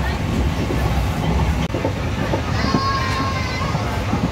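A passenger train rolls along its rails during a journey in India, a steady rumbling clatter with a faint squeal, heard from inside the carriage with voices talking.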